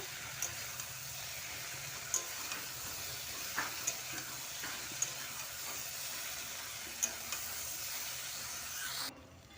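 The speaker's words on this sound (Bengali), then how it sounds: "বেগুনগুলো দিয়ে আর একটু ভেজে নেব।" Eggplant pieces fry in a pan for a small fish curry with potato, making a constant sizzling hiss broken by sharp spatula taps and stirs, close and fairly quiet, ending abruptly.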